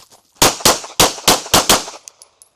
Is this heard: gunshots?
yes